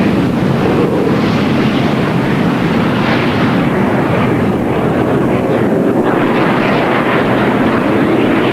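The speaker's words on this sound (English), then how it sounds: "Bob Healy in the Super Pitts S1S taxiing out to the north." A Super Pitts S1S aerobatic aircraft taxis at the 1995 Cranbrook International Airshow, heard as a loud, steady engine roar with heavy wind buffeting on the microphone throughout and no talking.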